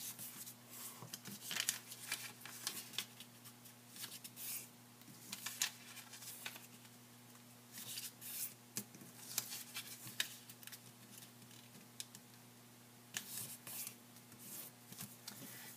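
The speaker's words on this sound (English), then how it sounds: "take each of these corners and fold them into the center" Origami paper for a candy pot being folded and creased by hand, soft crinkling and rustling strokes that come in irregular bursts, close and fairly quiet, steady throughout with no voices.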